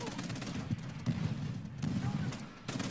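Gunfire in the World at War campaign, a dense run of shots and blasts with low rumbling booms, steady and loud throughout, mixed with game ambience and some voice.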